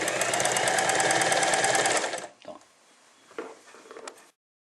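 An Elna 318 sewing machine stitches at a steady, fast whirring rattle for about two seconds, loud and close, then stops, followed by a few quieter handling clicks.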